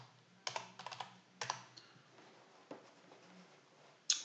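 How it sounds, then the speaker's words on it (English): Someone types a user ID and password on a computer keyboard: faint, scattered keystrokes in small clusters with pauses between, ending in a sharper single tap, in a quiet room. "type in the user ID and password that you created for them earlier"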